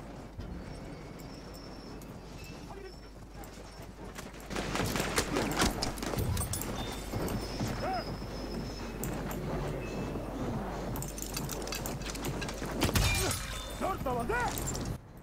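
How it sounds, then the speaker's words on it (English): Horse hooves gallop in the cavalry mode of the video game Battlefield 1 (open beta), mixed with bursts of gunfire and battle noise while people talk over the gameplay. "No, I stole someone's horse."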